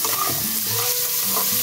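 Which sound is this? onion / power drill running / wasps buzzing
onion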